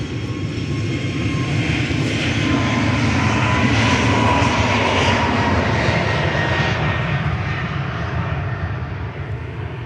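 A Ryanair jet bound for Brussels departs Manchester Airport, its engines roaring loud and steady throughout with a broad rumbling wash that fades slightly at the end.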